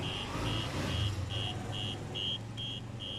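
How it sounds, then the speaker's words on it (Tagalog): A tire pressure monitoring system sounds its alarm because no sensor is detected: a steady run of short, high beeps at an even fast pace, fairly faint, over a low background hum. "So nag-a-alarm kasi wala siyang ma-detect na pressure monitor."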